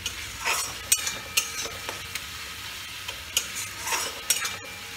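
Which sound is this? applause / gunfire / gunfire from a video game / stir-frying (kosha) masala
stir-frying (kosha) masala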